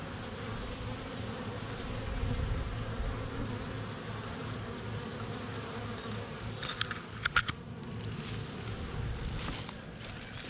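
Honey bees hum in a continuous low buzz close by at the hive, with a few sharp clicks partway through.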